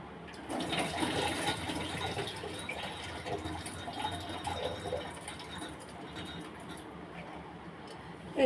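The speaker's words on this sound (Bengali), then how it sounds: "এই জলটা সবার আগে ফেলে দেবো।" Hot water from cooking chickpeas is poured out in a steady splashing gush that runs for several seconds at moderate loudness, close by and without voices.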